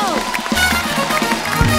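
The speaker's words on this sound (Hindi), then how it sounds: "रवि किशन जी गोरखपुर में जो काम कर रहे हैं उसके लिए जोरदार तालियां हो।" A studio audience on The Kapil Sharma Show bursts into applause and crowd noise for Ravi Kishan, loud and continuous, with music and voices mixed in.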